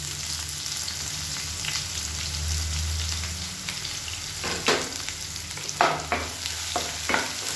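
Garlic and long-sliced onion sizzle steadily in hot oil in a pan for egg fried rice, with a low continuous fry and several sharper stirring scrapes near the end, no talking.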